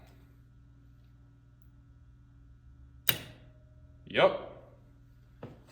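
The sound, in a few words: relay and solenoid clicking on, Arduino auto-fill dog bowl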